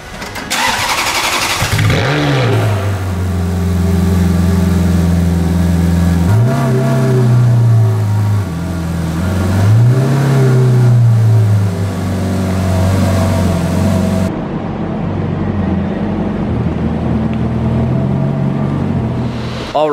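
A new Stratos car engine cranks and fires, then settles into a loud, close idle broken by two rising revs, before easing back to a steady rumble.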